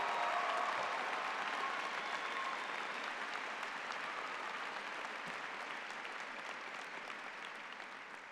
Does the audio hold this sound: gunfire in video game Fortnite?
no